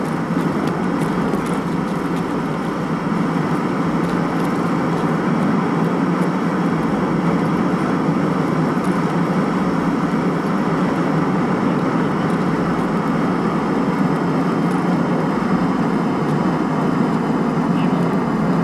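Steady broadband drone of an airplane flying overhead in the game Escape from Tarkov, loud and continuous with no break, a low constant rumble filling the whole stretch.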